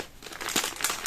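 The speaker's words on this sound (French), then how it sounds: "Je suis désolée, il y a du scotch." Adhesive tape crinkles and crackles as it is handled during a knitting session, a short burst of close, soft, irregular rustling with no speech over it.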